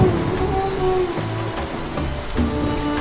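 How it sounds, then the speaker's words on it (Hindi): Heavy rain falls in a village, a dense, continuous hiss of drops on surfaces with steady loudness throughout and no voices. "बारिश तेज़ हो रही है"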